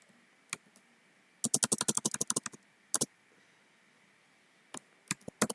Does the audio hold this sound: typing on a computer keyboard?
yes